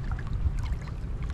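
Strong sea waves around a small boat in stormy weather, a dense, continuous low rumbling wash of water, close and steady with no voices.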